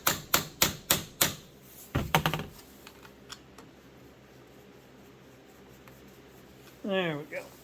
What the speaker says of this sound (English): Sometimes a little persuasion with a hammer.